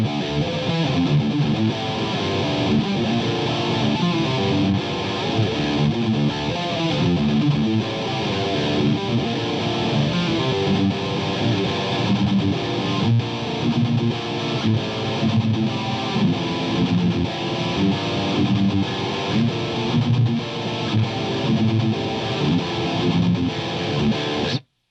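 Distorted electric guitar plays through a cabinet miked at the outer edge of the larger cone, far from the smaller cone, giving a darker tone; a steady, loud, sustained riff runs throughout.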